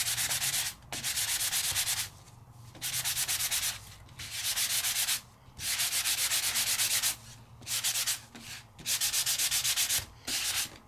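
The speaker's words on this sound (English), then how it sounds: "I'm just gonna sand some of this off so that you can start to see a little bit of what's underneath." Matboard embossed with a Sizzix die is sanded by hand in rhythmic bursts of dry scratchy rubbing, about eight strokes separated by short pauses, close and clear with no talking.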